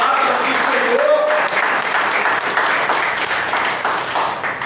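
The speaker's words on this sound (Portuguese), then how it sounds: "Aplauda essa palavra do Senhor" A church congregation claps steadily in sustained applause throughout, dense and fairly loud, with a voice speaking over it briefly.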